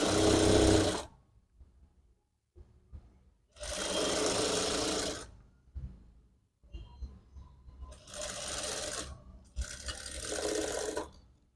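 A sewing machine stitching a quarter-inch seam on lining fabric for a princess-model blouse, running in four short bursts of fast whirring with quiet pauses between, close and clear.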